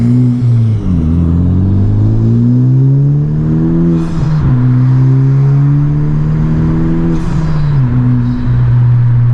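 A 2021 Honda Civic Type R fitted with a MAP track exhaust drones steadily from inside the cabin, its loud engine tone rising and falling as the revs shift over several seconds.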